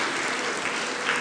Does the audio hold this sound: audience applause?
yes